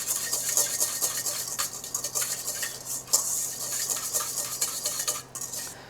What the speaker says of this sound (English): We're going to add our creme fraiche, and we're going to whisk that together until it's nice and smooth.